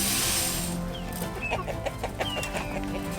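Chickens being fed wheat on a village farm cluck and murmur close by, with short rising calls and scattered squawks over a steady outdoor background.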